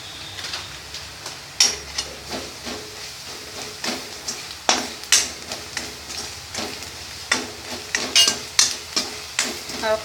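Chili powder, Kashmiri chili, turmeric and pepper masala for spicy pasta sautéing in a pan, with a low sizzle under repeated spoon scrapes and light metallic clinks at an uneven, stirring rhythm, close by.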